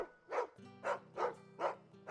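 A dog barks in Final Fantasy XVI, four evenly spaced woofs ringing out clearly over a soft, steady game music bed, with no one talking.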